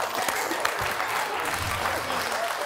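Studio audience applauding on a comedy game show, continuous clapping from a crowd with faint voices mixed in, steady in level across the whole stretch.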